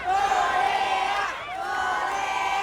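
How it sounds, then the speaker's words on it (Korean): About seven thousand spectators cheer and whoop at a ten-minute light show in the World Cup city plaza in Gwangju, a loud, dense crowd roar holding steady with a brief dip midway. "광장은 축구 못지않은 열기와 환호로 가득 찼습니다"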